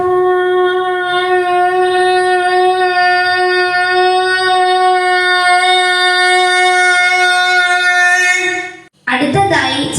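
A girl imitates blowing a conch shell, voicing one long, steady, loud, horn-like drone that holds for about nine seconds, then stops abruptly before a brief burst of other vocal sound.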